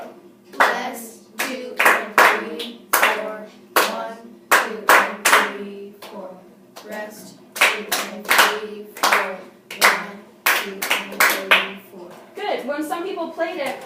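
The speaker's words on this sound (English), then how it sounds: "Counting and clapping." Steady rhythmic hand claps follow an even beat in a music lesson, with a voice counting along between and over the claps.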